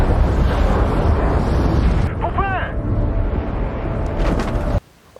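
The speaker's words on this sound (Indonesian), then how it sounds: "Saat itu terdengar ledakan hebat hingga membuat gas beracun semakin" A powerful explosion sends toxic gas spreading between city buildings. It comes through as a loud, continuous broadband roar with a brief cry partway through, then cuts off abruptly near the end.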